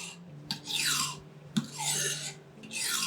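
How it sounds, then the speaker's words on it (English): A kitchen knife is drawn down a sharpening steel, three close rasping metal strokes each beginning with a light click, evenly spaced with brief pauses between. "When you're sharpening a knife with a steel, you want to go away from yourself"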